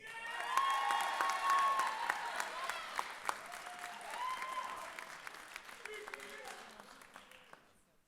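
A commencement crowd at a journalism college winter graduation applauds the graduates, a broad steady clapping with scattered cheers and voices, swelling early and then gradually tapering off toward the end.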